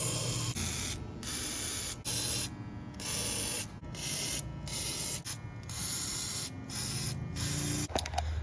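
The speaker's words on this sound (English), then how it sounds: "So I'm just gonna use some WD-40." WD-40 sprayed onto rusted bolts under an old Datsun 521 pickup, a series of loud hissing aerosol bursts of varying length with short pauses between them, close up and with no talking.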